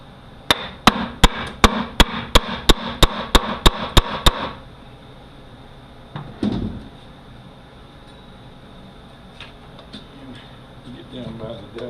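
Hammer blows strike a pry tool during disassembly of an RE0F10A transmission: about a dozen sharp, evenly spaced metallic hits in quick rhythm, then a pause and a few scattered knocks and clanks at close range.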